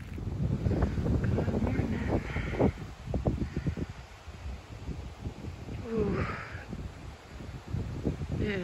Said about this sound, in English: It is windy and really cold.